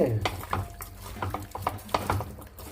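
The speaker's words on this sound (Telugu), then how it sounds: "కల్లుప్పు కొంచెం వేసుకొని మొత్తం కలిపేసుకోవాలి" Raw mutton is mixed by hand with rock salt in a vessel, giving close, wet squelching and rhythmic stirring scrapes with occasional clinks from the pot.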